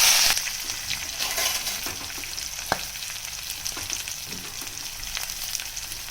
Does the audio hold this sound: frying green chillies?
yes